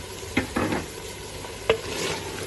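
A spoon stirs mashed boiled potatoes into a mixture for Lahori-style halwa puri. Two or three soft, close scraping strokes, each with a small clink, sit over a faint hiss, and no one is talking.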